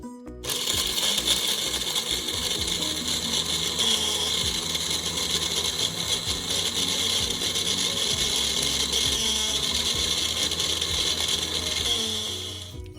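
An electric grinder whirs steadily and loudly while grinding spices for a jaggery sweet, a dense continuous rattling drone that runs nearly the whole time before tapering at the end.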